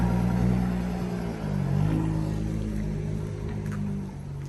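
A Jaguar car pulls away, its low engine rumble swelling and easing as it moves off, heard up close without speech.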